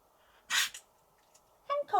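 A small pet dog sneezes indoors in a quick, sharp burst, followed a moment later by a couple of shorter snorting breaths, close and moderately loud with no talk over it.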